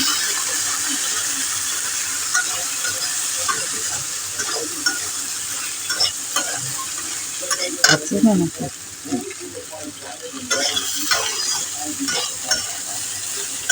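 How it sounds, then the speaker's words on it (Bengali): Chickpea and potato curry with a pinch of cumin powder being stirred in a pan, a constant sizzle under repeated scraping and clattering strokes of a spoon, close and fairly loud, with no voices. "এরপরে নাড়াচাড়া করা হবে।"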